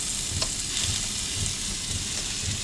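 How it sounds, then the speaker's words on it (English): Meat sizzles steadily in a hot pan with a constant crackling hiss, close up, with soft rhythmic scraping or stirring underneath, at a campsite. "A little sizzling, a little bit of a sear in each side."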